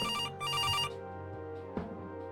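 A telephone rings in the video game Kathy Rain, two electronic ring bursts close together near the start, loud and clear, followed by a quiet musical background.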